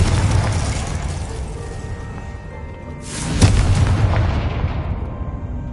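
A Confringo spell explosion from the game Hogwarts Legacy bursts at about the midpoint, a single sharp boom rising out of a steady, dense background of in-game noise and fading slowly afterward.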